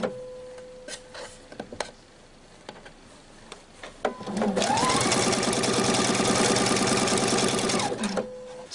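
After a few faint clicks, a sewing machine stitches a tunic seam, a loud, close, steady whirring with a rapid needle rhythm that runs for about four seconds before stopping.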